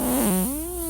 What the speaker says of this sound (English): that sounds like you could sell that to a company, like a fart machine company